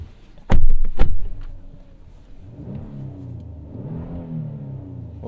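A Kia Telluride V6 gives two sharp, loud thumps before the engine revs up in a moderate, burbly rise and fall, heard close by and briefly, then eases back toward idle.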